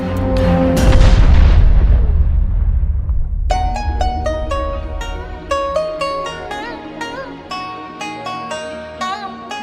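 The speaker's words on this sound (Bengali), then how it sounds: "বারুদ শব্দটি শুনলেই যেন কানে ভাসে বিস্ফোরণের শব্দ যুদ্ধের শব্দ" Explosion and war sound effects: a heavy, rumbling boom bursts out loud at the start and rolls away over a few seconds, then gives way to a bright, plucked musical melody.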